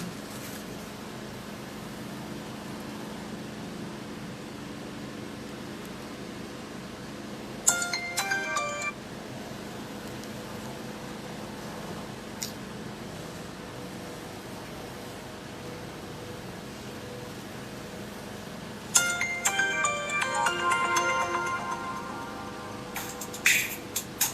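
Telephone ringback tones on an outgoing call, two short bursts of ringing at intervals over steady background hum, with no talk.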